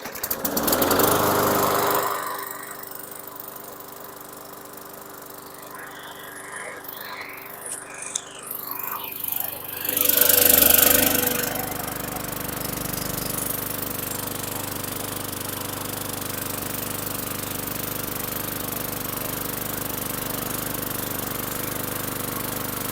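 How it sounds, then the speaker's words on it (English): A 2015 Yard Machines lawn mower's small engine roars to life after a pull start, sputtering briefly before settling into a loud, steady, buzzing run close by. "So we got a running engine on this"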